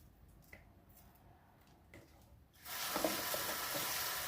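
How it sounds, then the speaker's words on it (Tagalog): Cabbage drops into a hot pan for vermicelli noodles and begins sautéing, a loud oily sizzle bursting in partway through after a few quiet clinks and taps. "Ayan, sunod natin yung repolyo. Pagkatapos nyan, magigisa na tayo."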